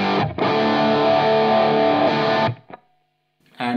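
A distorted electric guitar through a Two Notes Torpedo Captor X with a thick, mid-heavy tone plays a sustained chord, then cuts off briefly before another hit.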